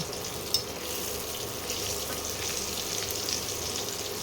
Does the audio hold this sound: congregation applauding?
no